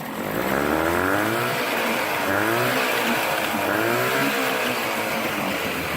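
A 35 horsepower Johnson outboard boat motor runs steadily and loudly throughout with a droning, slightly wavering pitch, alone with no voices.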